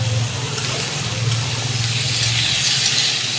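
Cut pumpkin pieces sizzling with soaked potato in a pan, a steady broadband frying hiss with a low hum underneath, continuous and fairly loud throughout, no voices.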